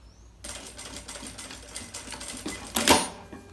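Sewing machine stitching a seam on fabric for a travel toiletry organizer, a rapid even mechanical chatter running for about three seconds with a brief sharper burst near the end, close and fairly quiet, with no speech.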